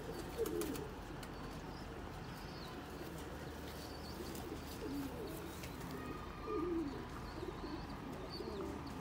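Ferozpuri pigeons cooing in a quiet enclosure, several soft low coos repeating at intervals over a faint steady background hum, close but gentle.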